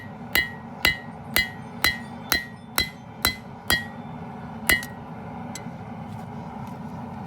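A hammer pounds hot metal at the forge to thin it out, landing eight evenly spaced, ringing blows about every half second, then one last strike after a short pause, all close and clear over a steady low background hum.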